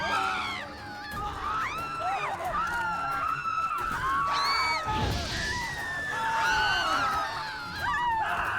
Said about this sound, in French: Arrêtez de crier, on s'entend plus